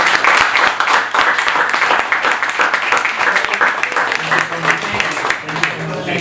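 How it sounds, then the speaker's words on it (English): Audience applauding a panel after a live Q&A session on blockchain advertising, loud close clapping that holds steady, with a few voices talking over the applause near the end. "Please, round of applause for our panel."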